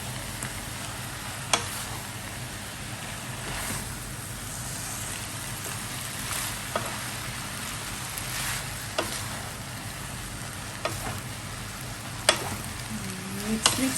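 Pad thai noodles, already soaked, are stirred and fried in a hot pan, giving a steady close sizzle with sharp scrape and clink spikes from the utensil at irregular moments throughout.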